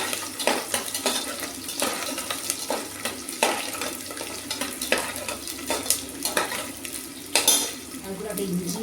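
Whole garlic cloves sizzle in hot oil in a pan, with steady frying hiss broken by repeated clinks and scrapes of a spoon stirring against the metal, close and fairly loud throughout.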